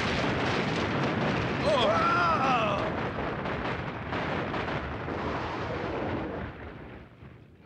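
Rumbling, continuous weapons fire and explosions in an animated space force battle, loud and sustained throughout, with a brief voice exclamation and a sweeping whine partway through.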